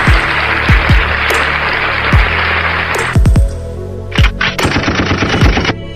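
Rapid gunfire effect from a K-Song wired headset with built-in earphone monitoring, loud bursts of machine-gun-like shots in quick rattling volleys over a dense noisy background.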